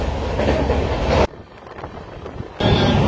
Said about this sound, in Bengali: এশিয়ার রেল জোনের সবথেকে প্রিয় জায়গা আমার খিরাই ক্রস করছে অমৃত ভারত